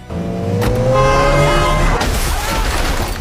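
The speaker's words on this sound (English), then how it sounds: "In a struggle, Henry accelerates instead." A car engine revs up hard and loud in a tense struggle, a rising roar with whining tones climbing in pitch, then a harsh burst of noise as it surges on, close and alone.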